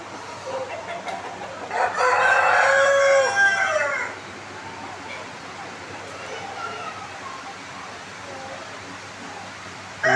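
A Dong Tao rooster crows loudly once among other chickens, a long drawn-out call lasting about two seconds, followed by quieter clucking and farmyard murmur in the background.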